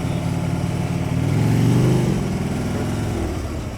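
Motorcycle engine revving up in first gear as the throttle is opened, rising to a louder mid-pitched growl and then easing back, close by and with no talk.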